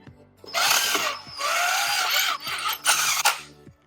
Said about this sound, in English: just put it into hammer mode, and it makes it a lot easier to drill